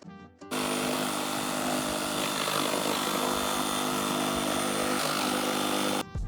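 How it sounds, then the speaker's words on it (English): Outside an off-grid cabin, a power drill bores a hole beneath a cooktop vent, its motor starting sharply and roaring loud and steady for about five seconds before stopping abruptly. "drilling the hole underneath the cooktop vent so that we can vent the air outside"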